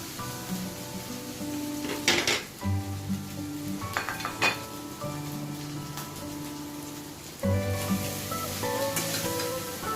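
Cooked rice sizzles and fries in a hot pan as it is stirred for restaurant-style mixed fried rice at home, a steady loud crackle broken by the scrape of a spatula.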